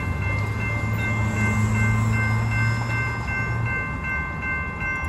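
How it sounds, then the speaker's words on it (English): A Metrolink Hyundai Rotem passenger train rolls past a railroad crossing with a loud, steady rumble and rail roar, while a crossing bell or signal rings and a low horn-like tone sounds throughout, close by. "it's a Hyundai Rotem, I think, with Metrolink"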